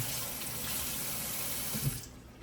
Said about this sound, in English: you wash the rice and throw it in after